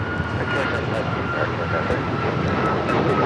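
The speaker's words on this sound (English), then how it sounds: "here we have United Airlines 1621 taking off to Orlando, Florida on the MAX 9" United Airlines Boeing 737 MAX 9 jet taking off for Orlando from LAX, a steady broad engine roar holding at even loudness throughout, with voices talking over it.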